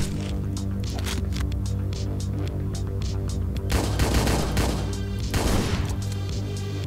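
Shotgun blasts in the top-down action game Hotline Miami 2, heavy bursts of gunfire swelling over a steady low synth hum and music bed, with the loudest volleys clustered in the latter half.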